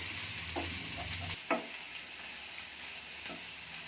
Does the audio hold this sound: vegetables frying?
yes